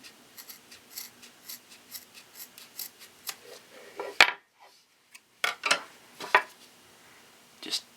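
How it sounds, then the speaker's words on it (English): Scissors snip through a nylon webbing strap in a series of short, crisp cuts close by, a few louder rasping snips midway, with quiet gaps between them and no talking. "we're just going to cut to get the most length out of this strap."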